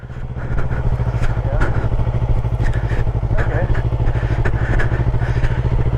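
Motorcycle ridden slowly by a learner during a riding lesson, its engine chugging in a steady low rhythm close by with thumps and clatter, light talk over it.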